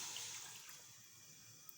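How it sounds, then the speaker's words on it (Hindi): Water poured into a kadhai on a stove, about half a cup, making a faint, steady trickling splash close by that fades slightly over a couple of seconds. "अब तकरीबन हाफ कप के करीब इसमें पानी ऐड करेंगे"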